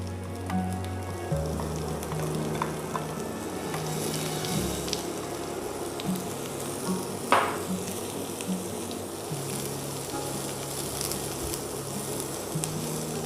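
Two large red onions sizzle steadily in hot oil with chili and garlic for a chili chana dish, a dense crackling hiss with occasional louder pops and a few clinks from a utensil.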